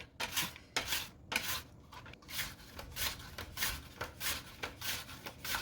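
Russet potatoes are sliced very thin on a slicer with a guard: quiet, rhythmic rasping strokes, roughly a dozen back-and-forth scrapes in steady succession, close by and with no talk.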